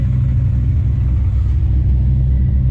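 A Plymouth Duster with a 340 engine idles steadily, a loud, close, continuous low rumble with no speech over it.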